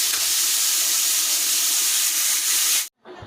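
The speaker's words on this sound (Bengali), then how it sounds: "এবার আলু দিলাম, আলুটা হালকা ভেজে নেবো" Potatoes frying lightly in a pan give a steady, close, broadband sizzle that runs without a break for almost three seconds, then drops off abruptly and returns more quietly.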